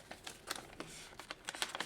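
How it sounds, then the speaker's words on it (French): Crumpled paper instruction manual for a Lego-compatible Iron Man workshop set being flattened by hand, with a string of soft, quiet crinkles and rustles coming in short bursts, close by. "je vais défroisser un peu le mode d'emploi"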